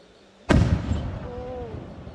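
A single festival firework bursts nearby at Fukuchi, a sudden loud boom followed by a long rumbling decay with a faint whistling tone trailing through it.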